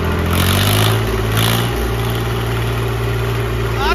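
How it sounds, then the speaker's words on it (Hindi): An 855 Five Star tractor engine idling with its silencer removed, a loud steady low rumble that stays close and even throughout. "तो भाई एक बार 855 फाइव स्टार की आवाज सुनवा दे"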